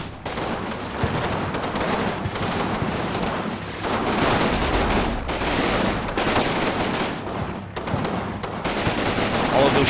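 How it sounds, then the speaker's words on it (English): Dense, sustained gunfire from many units in the WWII strategy game Combat Mission Normandy, rapid machine-gun bursts and rifle shots rolling in overlapping waves at a steady, loud level for the whole stretch, with no talk. "All of those shots, and not a single one found a mark."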